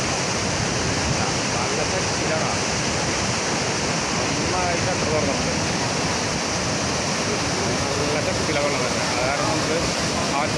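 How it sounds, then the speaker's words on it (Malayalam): A powerful, continuous roar of water gushing through an opened shutter at Peechi Dam, loud and unbroken throughout. "വെള്ളം വളരെ ഭയങ്കര ശക്തിയിൽ വരണ കാരണം"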